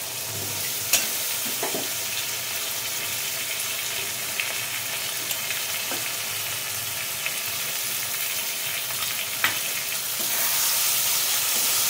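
Green chili and mustard paste fry in a pan with a steady, close hissing sizzle, broken by a few faint scrapes and clinks of stirring, with no talk.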